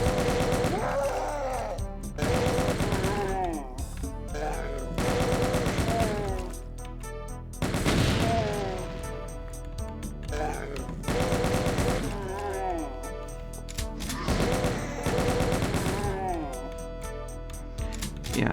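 Chaingunner enemies in Final Doom: TNT Evilution on the Mill level firing in long, loud bursts of rapid automatic shots, coming in repeated waves with short pauses and mixed with other in-game noise and music, with no talking.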